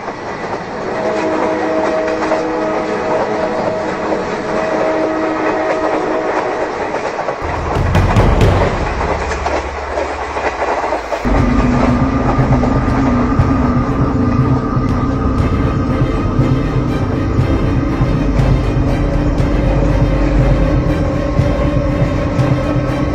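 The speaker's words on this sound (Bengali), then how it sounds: "আমরা ট্রেনের হর্ন শুনতে পাই, তার মানে ট্রেন আসছে।" A train approaches and passes on the tracks at a rural station, a loud, steady rumble and wheel clatter that swells midway, with a sustained horn-like tone running through the passing.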